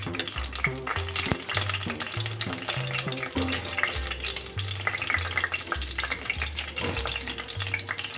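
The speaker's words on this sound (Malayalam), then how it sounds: "പെരിഞ്ജീരകം കൂടി ഇങ്ങനെ ഇട്ട് കൊടുക്കാം. അതൊന്ന് പൊട്ടി വന്നതിന് ശേഷം" Fennel seeds splutter and crackle in hot oil for shrimp masala, a steady sizzle sitting beneath prominent background music with a stepping bass line.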